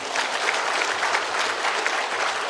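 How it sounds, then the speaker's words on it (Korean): A large congregation at a church service claps continuously, a dense, even wash of applause filling the room without pause. "박수 한번 쳐주시죠."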